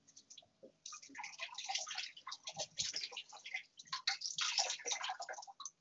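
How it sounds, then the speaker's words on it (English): Water trickling and dripping from a soaked towel after it is dunked and left to drain, a steady close patter of small splashes and drips running throughout. "And just let the water drain out naturally."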